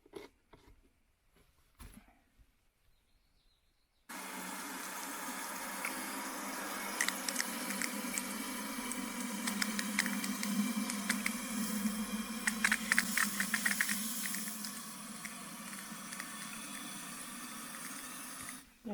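After a few quiet seconds, water starts pouring steadily into a container, about half a gallon, for watering seedlings, a loud, continuous rush that keeps going without a break.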